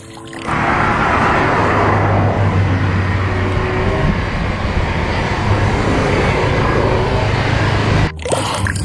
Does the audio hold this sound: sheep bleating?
no